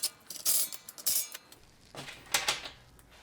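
A light impact driver tightens bolts on a cheap welding bench in short, faint bursts of rattling clicks, with a few separate hits spaced across a quiet workshop.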